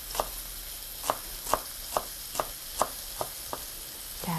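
A knife slices green onions about 2mm thick, making eight crisp, evenly spaced chops on a cutting board, heard up close and alone against quiet kitchen background.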